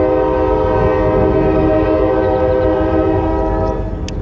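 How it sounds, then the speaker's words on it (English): A loud, sustained train horn blares steadily, rich and droning, close and dominant throughout. "I like to throw the occasional train horn in there every now and then, you know."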